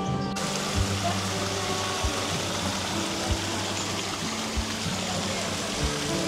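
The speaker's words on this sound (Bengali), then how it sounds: "ঠান্ডা জল বইছে" A cold stream flows steadily at an outdoor spot in Pattaya, Thailand, with an even, broad rush and trickle of water. A low hum sits beneath it and occasional soft thumps stand out.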